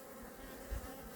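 Honey bees buzz steadily around a hive where a new queen is being introduced, a dense continuous drone close by with no talk.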